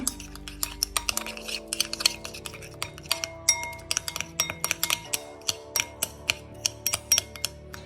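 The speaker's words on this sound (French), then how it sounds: "Et j'ajoute ce poivre à l'huile, au gingembre et à l'ail. On mélange bien." A utensil clinks repeatedly against a pan or wok as pepper, oil, ginger and garlic are stirred together, giving a steady run of sharp, close metallic taps with no talking.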